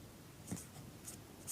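Faint pen or chalk strokes on paper or a board during a Class 10 maths lesson, a few short scratchy marks in quiet surroundings.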